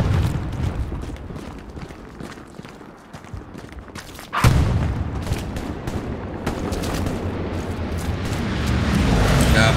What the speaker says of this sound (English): I can only hear the bullets hitting.